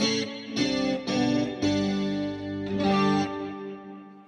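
Guitar through a preset of compressor, delay and chorus effects plays a few sustained notes and chords, each ringing out with a shimmering, washy modulation and trailing repeats.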